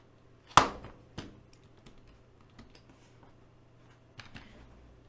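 Keystrokes on a Microsoft wireless keyboard during a PC build setup: one sharp loud press, then scattered softer taps and a closing cluster of keys, with no talking.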